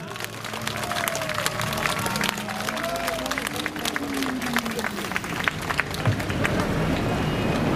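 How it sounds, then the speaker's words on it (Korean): A crowd at an outdoor political rally applauds warmly, sustained clapping with scattered sharp claps throughout, while an amplified voice carries tonal shouts underneath and the applause swells near the end. "그 작은 거인 우리의 작은 영웅 지만원 박사님께 뜨거운 박수를 보내드립시다"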